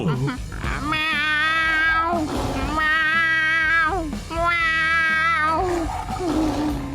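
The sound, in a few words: cartoon character imitating a cat's meow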